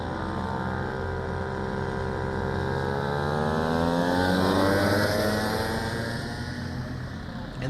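Go-karts race around a track at night, their high buzzing engines rising and falling in overlapping pitch sweeps as they pass, loud and continuous throughout.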